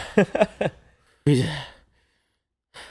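A person breathes hard after a workout outdoors, a few quick voiced gasps followed by a long, heavy exhale, close and alone, then a brief fresh intake at the end.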